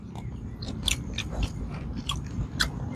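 Close, crisp bites into crunchy fried food with skin still crisp, giving several sharp crunches and chewing sounds spread irregularly over a few seconds, with no talking.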